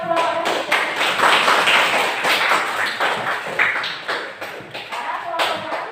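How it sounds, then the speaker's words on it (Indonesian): A class claps for a student group, a burst of hand clapping from a roomful of people that swells and then thins out, close and lively. "Tepuk tangan untuk kelompoknya Siti."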